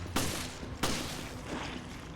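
Handgun fire in the video game Resident Evil, two sharp close shots about half a second apart with a softer third report, each followed by brief decay over faint game ambience.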